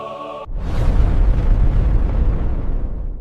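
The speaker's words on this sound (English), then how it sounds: "The deafening sound of the rupture circles the entire planet." A deep, thunderous boom of an earthquake rupture erupts after a short tonal lead-in, then rolls on as a sustained, rumbling roar that fills the whole stretch.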